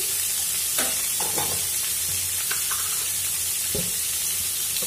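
Cauliflower stems and potatoes with turmeric fry in a pan, a bright steady sizzle broken by a few short scraping stirs of the spoon, close and without talk.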